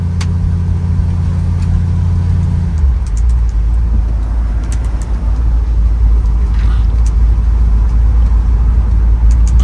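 A 1964 Ford Galaxie, its mechanical and brake work just finished, on a back-road test drive: a loud, steady engine rumble, first lumpy and idling, then settling into a continuous drone as the car pulls away, with no talking.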